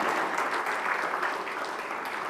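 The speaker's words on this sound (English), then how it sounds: "they truly deserve a big round of applause" Applause from the audience at a business forum session, a dense, even patter of many hands clapping steadily throughout, moderately loud and without talk.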